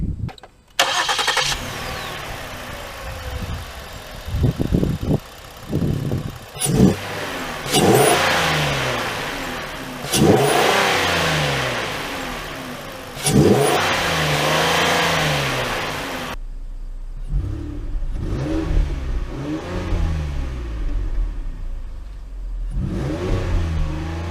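A 2015 Ford Taurus V6 engine cranks and catches, then revs loudly several times in rising, falling surges before settling into a lower, steady idle.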